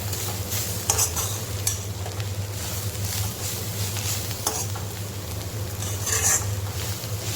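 Sliced bitter gourd being stir-fried in a pan, a steady sizzle running throughout with intermittent scraping and stirring strokes of a spatula against the pan, no voices.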